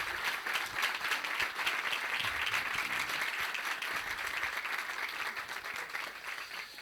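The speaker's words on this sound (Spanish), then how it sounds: "le vamos a dar un fuerte aplauso" A strong round of applause from a parish congregation, dense and steady clapping at even loudness that thins slightly toward the end.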